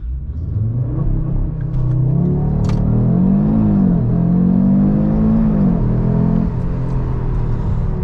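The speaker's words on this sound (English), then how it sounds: "left foot on the brake, right on the throttle, release, and then we initiate launch control" A 2022 Audi RS3 sedan with a 400 hp five-cylinder engine launches hard from launch control, its loud, close engine note rising and falling through the gears for several seconds before settling.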